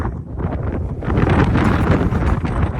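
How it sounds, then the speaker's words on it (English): Strong wind on an exposed mountain hike, with gusts up to 50 mph, buffets the microphone in a continuous loud roar, gusting heavier partway through, with no voices present. "It's cold and the wind's blowing."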